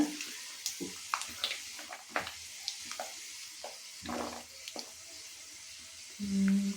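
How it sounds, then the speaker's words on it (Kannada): Fresh curry leaves tempering in hot oil crackle and pop in scattered bursts, with a few stirring scrapes and a short low rumble near the end. "ಎಲ್ಲ ಚಟ್ಪಟ್ ಚಟ್ಪಟ್ ಅನ್ಲಾಗತ್ತೈತಿ ಚೆನ್ನಾಗಿ"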